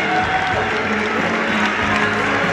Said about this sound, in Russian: две трибуны, друзья мои, аплодисменты парам